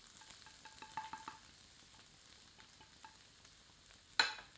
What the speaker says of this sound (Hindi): अब बारीक कटे हुए अदरक एवं लहसुन गर्म तेल में सम्मिलित करते हैं